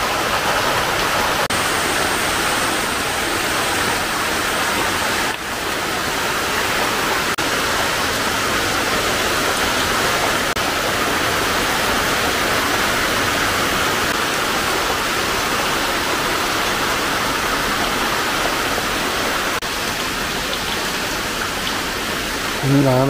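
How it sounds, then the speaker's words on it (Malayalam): Heavy rain pours steadily in Mundakayam, a dense, unbroken hiss that fills the whole span without letting up, close and loud with no voices over it. "നല്ല മഴയാണ്."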